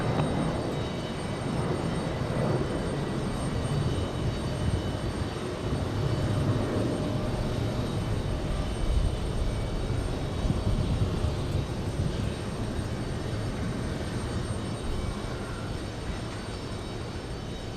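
A jet airliner on final approach to runway 22L at JFK airport in New York, a steady broadband engine roar holding at constant loudness without pause, with no speech.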